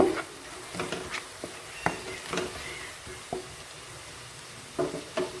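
Chopped onions fry to light brown in a pan for a prawn malai curry, with a low sizzle broken by intermittent stirring scrapes and taps.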